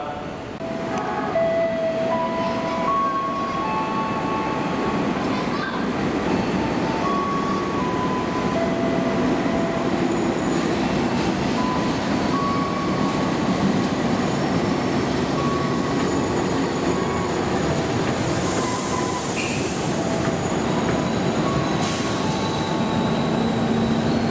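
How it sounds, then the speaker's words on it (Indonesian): The Jakatingkir 222 passenger train runs past on track 6 at a busy Indonesian station, a loud steady rumble of wheels on rail lasting throughout, with brief squeals and faint background voices. "Di Jor 6 melintas kereta api Jakatingkir 222."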